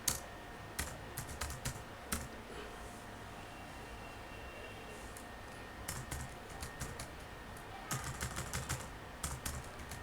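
Password being typed on a computer keyboard during a terminal session, heard as quiet clusters of quick clicking keystrokes separated by short pauses in an otherwise hushed room.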